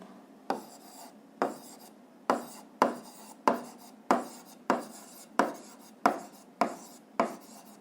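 A pen writing a physics formula by hand on paper, heard as about a dozen separate scratchy strokes in an even rhythm, each starting sharp and trailing off, close and alone with no talk.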